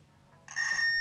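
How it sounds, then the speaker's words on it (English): A multimeter gives a steady continuity beep while testing N64 controller lines, a clear high electronic tone that starts abruptly partway through and holds to the end after near silence. "So we need to hear a longer beep to make sure that these lines are being connected."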